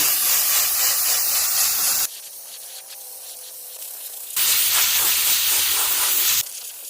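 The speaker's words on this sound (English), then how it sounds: "I just use an air tip and spray this on." Loud compressed air hisses in two long bursts from an air-tip nozzle spraying sealer onto chip-carved wood, separated by a quieter pause with faint background noise.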